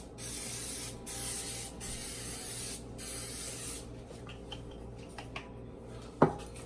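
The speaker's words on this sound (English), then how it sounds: "I'm just gonna spray a little bit of butter spray on the top." Butter spray from a can misted over the tops of stuffed biscuits ready for the oven, several steady hissing bursts of a few seconds each, then quieter handling clicks and a sharp knock near the end.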